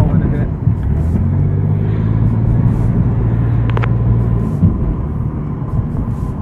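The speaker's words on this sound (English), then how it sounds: "we'll try to turn the windows down and hear the exhaust" A 1994 Camaro coupe custom build accelerates from inside the cabin with the windows down, its exhaust droning in a deep, steady rumble that climbs briefly in pitch, loud and continuous throughout.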